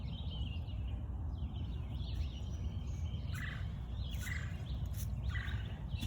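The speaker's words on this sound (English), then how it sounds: "It's just so pretty out here in the mornings with the birds chirping" Morning birds in a vegetable garden with corn and beans, chirping faintly and intermittently in the distance over a steady background of low rumbling noise.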